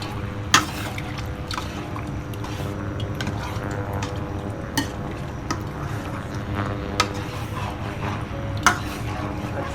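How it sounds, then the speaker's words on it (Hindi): White chicken masala fries in a pan while being stirred with a spoon, giving a low bubbling sizzle punctuated by scattered sharp clinks and scrapes against the pan. "अच्छे तरीके से मिक्स करेंगे और 10 मिनट तक मुसलसल हम इसे भूनेंगे"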